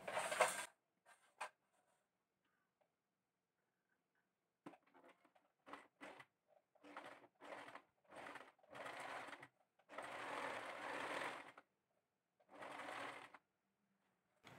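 A domestic sewing machine fitted with an appliqué presser foot (no. 24) stitching fabric in repeated short close-up bursts, starting and stopping with brief pauses in between after a quiet opening.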